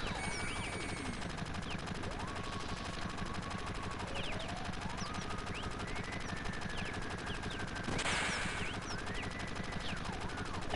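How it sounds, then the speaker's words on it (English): Rapid bursts of automatic gunfire in the video game Final Fantasy 7 rattle almost continuously, with a sharper, louder blast partway through and whistling tones drifting over the din. "So many gunshots."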